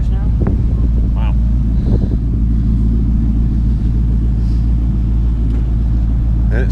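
A Ford Mustang with shorty headers, an off-road H-pipe and a pipe bomb catback burbles with a deep, steady exhaust rumble from inside the moving car, with brief revs, wind noise and people talking over it.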